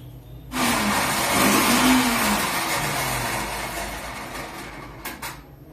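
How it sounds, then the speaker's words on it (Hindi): A mixer grinder blending cold coffee starts abruptly and runs with a loud whirring drone that shifts in pitch, then tapers off, followed by a couple of small clicks. "तो दोस्तों आपको आवाज सुनाई दे रही होगी कि मिक्सी में चला रही हूँ"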